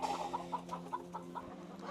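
Roosters kept apart on a Sri Lankan poultry farm give a rhythmic run of about nine close clucks over a low steady hum, with no talking.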